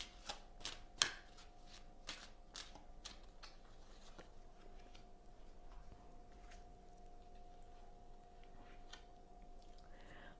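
Tarot cards shuffled with a run of crisp riffles and snaps in the first few seconds, then quieter handling as a card is drawn, close and fairly soft.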